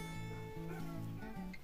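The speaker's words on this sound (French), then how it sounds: "excusez-moi pour les chiens" Dogs indoors giving a run of short whimpering yips and barks in quick succession, fairly faint against the room.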